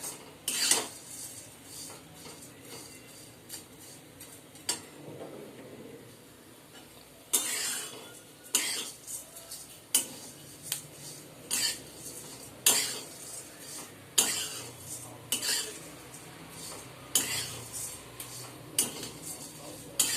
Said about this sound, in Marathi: छान असं मंद गॅसवरती भाजून घेऊया आपण.